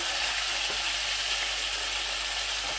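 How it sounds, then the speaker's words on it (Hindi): Beef liver frying and being stirred on a tawa, a dense continuous close sizzle with faint scraping underneath, steady throughout and without any voices. "अच्छी तरह से कलेजी को हिला लेना खूब"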